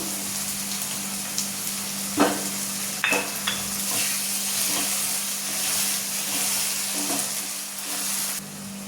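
Peas and capsicum cooking in a pan with tomato gravy, a steady soft sizzle and hiss with a few sharp spoon clinks against the pan, close and fairly quiet, no talking.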